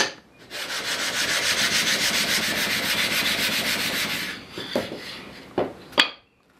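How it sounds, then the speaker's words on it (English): A drawknife blade is rubbed back and forth on a flattening rock, a steady loud gritty scraping for several seconds that then breaks into a few short separate strokes and clinks before stopping. "flatten it first, right here on this flattening rock"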